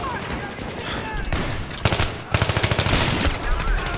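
AK rifle gunfire in Battlefield 3 comes in loud rapid automatic bursts amid ongoing battle noise, with a player talking faintly underneath.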